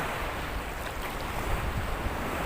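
Strong ocean waves at the beach at De La Paz Pulot, a broad steady rush of surf mixed with wind buffeting the microphone, with no voices.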